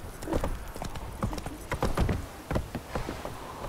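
Horse hooves clip-clop at a steady trot in The Witcher 3, a quick close run of thuds that thins toward the end.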